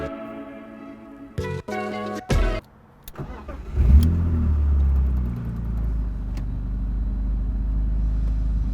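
Supercharged BMW M3 engine starts after a few short clicks and chimes, then settles into a loud, deep, steady idle rumble close by.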